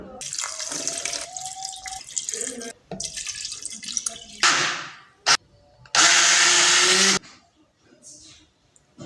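Water pours into sugar for homemade juice in a Moroccan kitchen, with a splashing pour that comes and goes and one loud, sustained rush of liquid near the end, close by.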